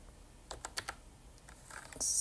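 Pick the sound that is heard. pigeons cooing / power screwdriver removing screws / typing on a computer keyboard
typing on a computer keyboard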